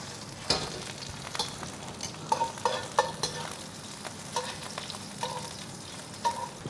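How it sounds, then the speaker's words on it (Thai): Fresh prawns stir-frying in a tablespoon of oil for shrimp pad thai, a soft steady sizzle broken by repeated clacks and scrapes of a spatula stirring against the pan, with no talking. "เวลาที่เราทำผัดไทยกุ้งนะครับเราจะเอากุ้งลงไปผัดให้สุกก่อน"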